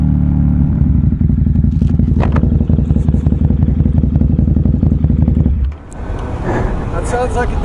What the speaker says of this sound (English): I'm finally getting out on the Super Duke.